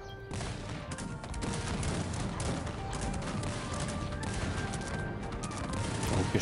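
Musket volleys crackle in the strategy game Cossacks 3 during the siege of Candia with a Turkish army, a dense, continuous rattle of many shots layered over steady battle din, loud throughout.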